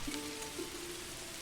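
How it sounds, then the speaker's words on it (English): Steady rain falls in the medieval city-builder game Manor Lords, a soft, even hiss of drops on surfaces, faint and continuous with no voices. "Wow, the rain is so much."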